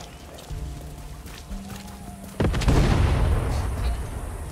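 An explosion in the video game Far Cry 6 bursts loud and sudden midway, following quiet tonal game music, then leaves a rumbling, crackling roar that lingers to the end.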